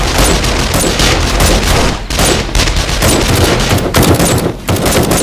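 A dense fusillade of gunfire in 7 Days to Die during a four-player co-op base defense: loud, near, overlapping rapid shots in continuous bursts with a couple of brief lulls, with no voices over it.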